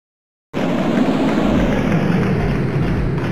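An aeroplane's steady engine drone begins abruptly after half a second of silence, then holds loud and even with a broad rumble and no voices.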